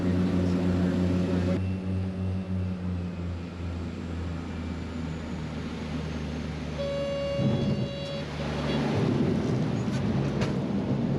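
A charter airplane flying out of Port Moresby toward a remote jungle trail, with a steady propeller-engine drone that holds throughout and swells louder near the end.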